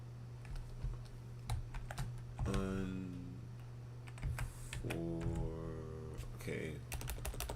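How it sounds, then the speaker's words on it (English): Keys clatter in irregular bursts of typing on a computer keyboard while a person talks intermittently over a low steady hum. "hate typing stuff out."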